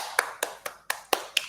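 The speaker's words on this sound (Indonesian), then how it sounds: "Tepuk tangan, ayo, silakan." Students in a classroom clap their hands in six sharp, evenly spaced claps over about a second and a half, with no voices.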